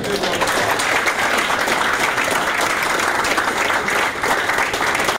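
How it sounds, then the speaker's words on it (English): Loud, sustained applause from a crowd at the San Francisco 49ers practice facility during a mentorship academy event, dense even clapping throughout, briefly dipping near the end. "let's give our 49 persons a big round of applause"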